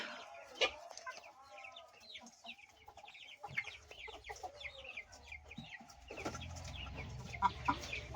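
Pigeons and squabs in a pigeon loft make close, soft cooing and warbling calls with some scuffling and wing movement, at low level, with a fuller burst of calls near the end.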